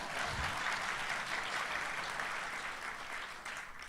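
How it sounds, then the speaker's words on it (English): An audience at an evening conversation event at Crystal Bridges claps for a guest, a fairly soft, sustained patter of many hands that slowly tapers toward the end. "yes, you can clap for her"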